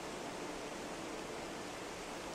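Mountain torrent rushing continuously in a dense, even broadband roar, steady and unbroken from start to finish, with no voices over it.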